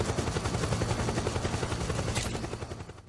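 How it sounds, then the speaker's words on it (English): A helicopter in the Metal Gear Solid 4 video game, its rotor thumping in a steady rapid pulse close and loud, with gunfire mixed in and the noise easing slightly toward the end. "Oh man, helicopter's right there."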